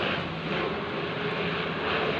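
A fixed-wing airplane flies over above thick rain clouds, its engine producing a faint, even, continuous roar that lingers without rising or fading, heard alone with no one talking.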